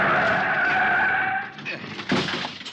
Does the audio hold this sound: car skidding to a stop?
yes